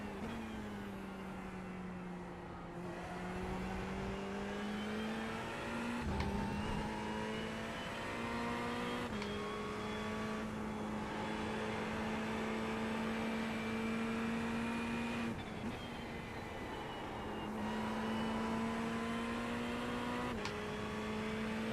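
Ferrari GT3 car engine during a lap in iRacing, a sustained high engine whine that rises through the gears with brief dips at each shift, steady and close with no talk over it.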